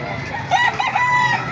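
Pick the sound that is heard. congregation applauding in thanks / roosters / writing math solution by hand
roosters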